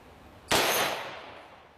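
A green tip rifle round strikes a titanium plate: one sharp, loud impact crack that rings out and trails off in a fading metallic decay, heard alone.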